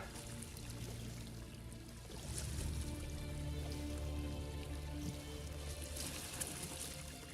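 Water running steadily in Morrowind, an even trickling and pouring wash that swells slightly midway and stays alone without voices.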